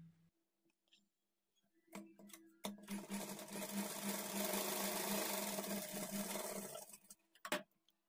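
A sewing machine stitches a lining blouse in one steady run of several seconds, preceded and followed by a few close clicks and handling noises in an otherwise quiet room.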